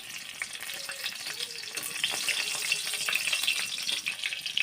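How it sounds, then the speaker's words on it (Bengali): Green and dried chillies fry in hot mustard oil in a wok, giving a close, crackling sizzle with rapid pops that grows slightly louder as it goes on. "কড়াই গরম হয়ে গেছে, এবার সরষের তেলটা দিয়ে দেবো। কাঁচা লঙ্কা আর শুকনো লঙ্কা দিয়ে দেবো।"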